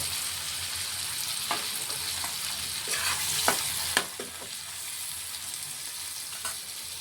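Chopped tomatoes hit a pan of fried onions and sizzle steadily, while a spoon scrapes and stirs in a few sharp strokes over the even hiss.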